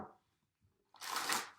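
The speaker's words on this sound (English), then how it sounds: "that was a terrible shuffle" Tarot cards are shuffled in one short, papery riffle near the end, after a brief quiet gap. The shuffle sounds close and dry.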